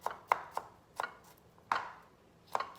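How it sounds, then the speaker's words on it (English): A knife chops through crushed garlic on a cutting board in sharp, uneven strokes, five or six close, crisp knocks spaced irregularly with quiet gaps between, no voices. "We're going to chop this garlic."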